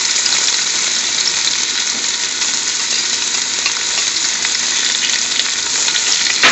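Chopped garlic sizzles loudly and steadily in a hot pan, a continuous dense frying hiss with faint stirring and tossing underneath and no talking.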